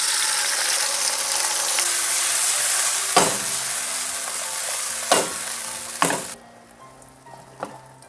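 Porcini mushrooms sauté in olive oil in a pot, with a strong continuous sizzle broken by a few sharp utensil knocks. The frying fades abruptly toward the end, leaving quieter clatter.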